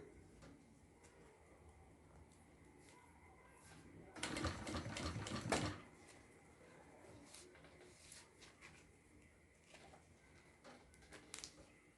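A sewing machine runs in one short loud burst of rapid stitching while a zipper is sewn into a notebook cover, set against quiet room tone with faint clicks and handling before and after.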